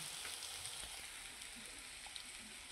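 Potatoes and cashews frying together in hot oil for a home-style kaju batata bhaji, a steady soft sizzle and crackle running evenly throughout, fairly quiet with no voices.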